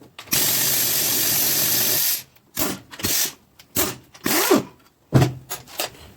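Ratchet turning out bolts on a small block Chevy 350 engine during teardown, a long buzzing run of rapid clicks followed by several shorter bursts of ratcheting separated by pauses, close and loud with no talking.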